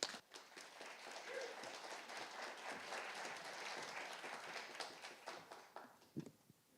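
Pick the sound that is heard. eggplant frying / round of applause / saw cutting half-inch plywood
round of applause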